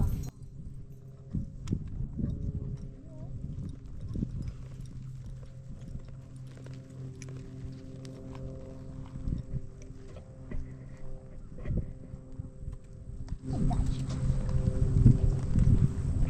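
A horse walks at a trainer's clinic, its hooves clip-clopping in an irregular rhythm, sometimes close and loud, sometimes softer, with shuffling and a rising rustle near the end.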